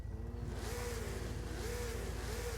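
Modified C3 Corvette with an LS engine swap in a Forza racing game, engine droning and revving up and down in steady waves, moderately loud with no talking.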